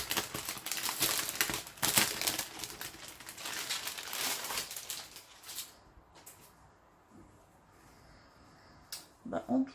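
A Hachette Disney cross-stitch package with a tote bag being unwrapped, giving close, busy crinkling and rustling of wrapping for several seconds, then quieter handling and a few last crackles.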